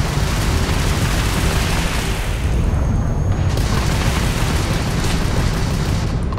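A missile explodes in Starfield spaceship combat with a loud, sustained roaring boom that fills several seconds without letup, heavy and close, with no voices.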